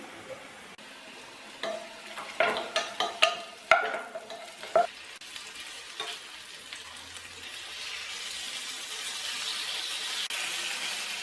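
Fish fries in a pan for Kerala-style fish molee, with a few clinks and scrapes of stirring at first, then a steady hissing sizzle that grows and fills the rest, with no talking.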